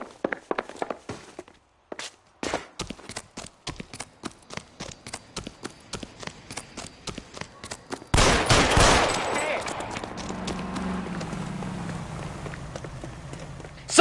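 Gunfire in the L.A. Noire video game: a rapid series of sharp shots and footstep-like hits, then a loud, longer burst that fades into a rumbling tail.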